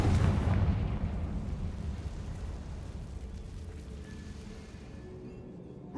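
A Confringo blasting spell goes off in Hogwarts Legacy, a deep rumbling explosion that starts loud at once and rolls on as a long, slowly fading roar with no talk over it.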